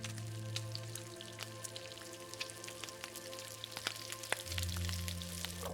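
Food sizzles and crackles as it cooks over a fire in the survival game The Long Dark, a steady close frying hiss with scattered pops and a low hum underneath, no talk.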